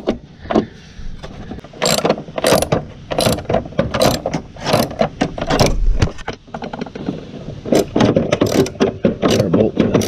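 A ratchet with a socket tightens a bolt on a Toro mower, giving rapid, loud, close clicking bursts in repeated strokes with brief pauses and metallic rattles between them.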